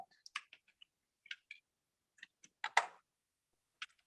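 Scattered keystrokes on a computer keyboard, irregular light clicks spaced apart with brief pauses, close and fairly quiet with no talking.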